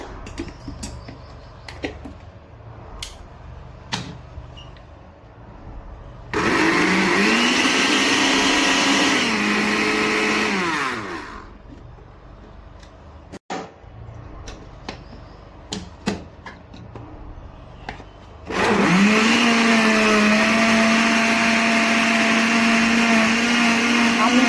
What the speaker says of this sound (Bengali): আম্মু এখন ব্লেন্ডার করা শুরু করবে,